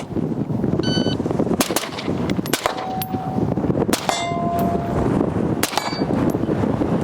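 Suppressed short-barreled rifle fire at steel targets: a rapid string of sharp muffled shots, each followed by a bright ringing clang of the steel plate, loud and close, repeating over several seconds.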